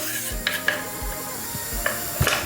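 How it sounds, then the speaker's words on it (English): Kidney beans being stirred in a cooking pot, a few soft scraping and clinking strokes of a utensil against the pot, close and quiet, with no talk. "you give it a little stir"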